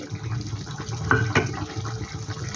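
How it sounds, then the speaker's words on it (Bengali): Tamarind water for a sour mourola fish curry pours into the cooking pot, a soft continuous liquid splash and trickle with a brief sharper slosh midway, steady and close. "সেই তেঁতুল জলটা আমি এখানে দিয়ে দিচ্ছি"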